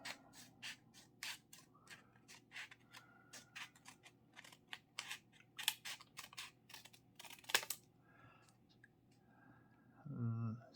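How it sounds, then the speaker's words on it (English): Scissors cut paper for an origami Christmas angel in a run of quick, close snips and rustles, faint and crisp, with a low hum behind and a brief thud near the end. "get our scissors, and at the open end we're just going to cut just slightly off from the middle"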